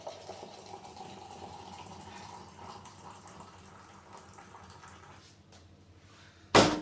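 Water poured steadily into a teapot for mint tea, a continuous low trickling stream running for several seconds before a sharp, loud clatter at the end.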